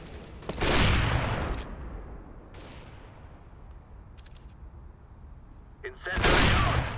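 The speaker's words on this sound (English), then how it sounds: "Flashbang." Flashbang grenade detonations in the video game Counter-Strike: GO, two loud broadband bursts near the start and end of a round, with quieter in-game clatter and a faint ringing hiss between them.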